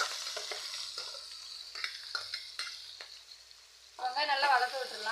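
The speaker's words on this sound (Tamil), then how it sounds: "வெங்காயம் நல்லா வதக்க விட்டுடலாம்." Sliced onions frying in a pan for prawn pepper fry, a steady soft sizzle with scraping stirs that swell into a louder hiss near the end.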